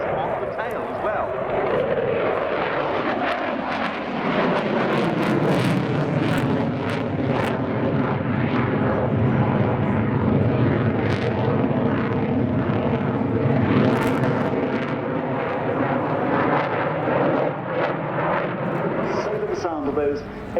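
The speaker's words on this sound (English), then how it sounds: "So the sound of those 8 130 horsepower de Havilland Gypsy Major engines." Eight 130-horsepower de Havilland Gipsy Major engines drone loudly at the RAF Cosford airshow, a continuous harmonic roar whose pitch slowly shifts as the aircraft passes, with wind buffeting throughout.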